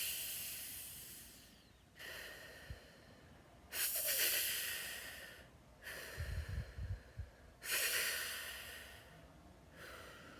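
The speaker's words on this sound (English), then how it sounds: "I'm gonna take 5 deep breaths" Slow, deep breaths drawn in and pushed out in a steady rhythm, each a soft, close airy whoosh separated by quiet pauses, with faint low thumps during one exhale.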